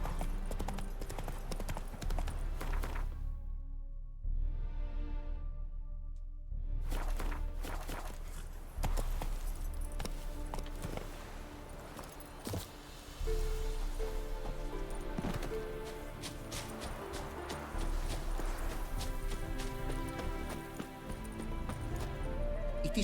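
Geralt's horse Roach trotting in The Witcher 3, steady rhythmic hoof clops on the ground with a brief snort, running under game music and ambient sound.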